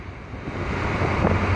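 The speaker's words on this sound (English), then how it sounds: "A little bit of wind back here." Steady wind buffets the microphone on the after deck of a ship cruising the Yangtze River in China, a continuous broadband rush with low rumble underneath and no voices.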